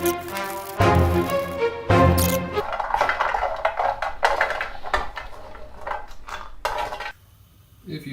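Cashews stirred in a large pan, giving clattering scrapes and knocks at first that settle into a steady, softer rustle of nuts shifting against the pan, with a voice speaking now and then.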